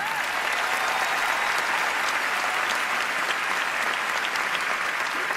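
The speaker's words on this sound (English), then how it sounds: "Can we please have another round of applause" Thick, sustained applause from a large awards-show audience at the Primetime Emmys, steady and loud from start to finish with no speech.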